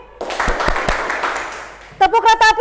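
A group at a school teacher-training session claps a short rhythmic pattern: a few sharp, spaced claps, then a burst of voices chanting in a bouncy rhythm.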